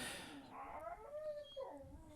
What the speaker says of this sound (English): My dog is waking up. She's in her kennel and she's starting to cry.